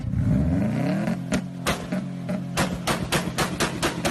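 A car on launch control holds a revving engine note, then fires a rapid series of sharp exhaust bangs and pops as fuel lights in the turbocharger, loud and close, about a dozen cracks in an uneven burst.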